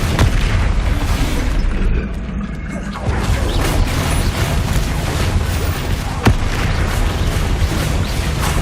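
Spell impacts and explosive bursts from combat in the video game Hogwarts Legacy, dense and loud, with repeated booms and crashing blasts layered over continuous game noise and a sharp hit near the end.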